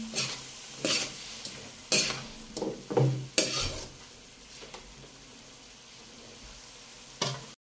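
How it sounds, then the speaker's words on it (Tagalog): Chicken curry being stirred in a pan, with several sharp scraping clatters of a utensil against the pan over a soft background sizzle, spaced irregularly and close to the microphone. "Haluin lang po natin."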